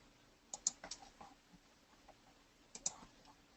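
Computer mouse clicking, a few faint sharp clicks in two small clusters with quiet gaps between them, close and alone in a quiet room.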